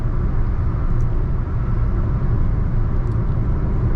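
Hyundai Venue 1.0 turbo petrol engine with manual gearbox cruising on a highway near 2250 RPM, a steady low drone blended with road and tyre rumble inside the cabin, unchanging loudness and no talk.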